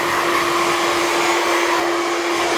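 A hair dryer blows steadily at close range while a man's hair is dried after a haircut. Its loud, constant whirring airflow carries a clear motor whine and never changes.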